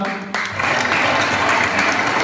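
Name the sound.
applause for a child at a birthday party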